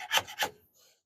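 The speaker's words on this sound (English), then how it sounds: "See if we can chisel that." A chisel scraping a raised wooden deck box part, two quick close rasping strokes followed by a faint brief scrape.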